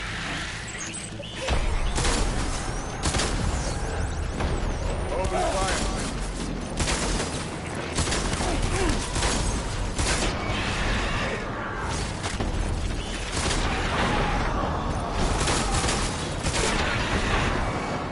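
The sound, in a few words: gunfire in the video game Death Stranding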